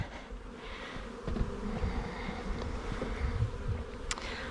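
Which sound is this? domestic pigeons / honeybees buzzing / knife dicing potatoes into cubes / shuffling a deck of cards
honeybees buzzing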